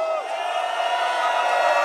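Crowd noise at a hardcore show, Outblast versus Evil Activities: a steady, dense roar of many voices cheering and whooping, loud and continuous throughout with no pauses.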